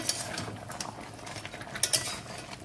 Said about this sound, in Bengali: ভালো করে নাড়াচাড়া করছি।